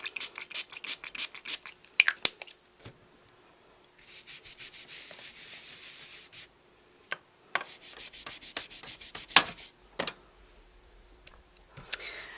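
An ink stamp being scrubbed clean during a card-making session, quick bursts of close scratchy rubbing and rasping strokes with scattered sharp clicks and taps, quiet and intermittent.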